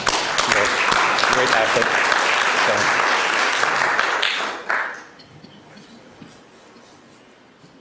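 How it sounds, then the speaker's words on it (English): Applause from a conference audience fills the room loudly for about four seconds, then fades quickly to quiet room noise, with a voice speaking briefly during it. "I think we can all applaud that team"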